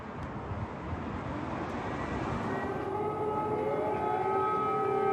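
Air raid sirens wail over a Ukrainian city at war, a steady distant rising tone emerging from a background rumble and growing clearer toward the end, with no voices.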